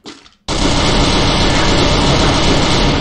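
A vehicle engine in the video game Free Fire kicks in abruptly after a quiet moment, a loud, steady, dense roar that holds without a break.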